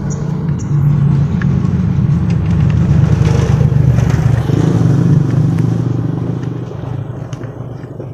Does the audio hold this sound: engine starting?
yes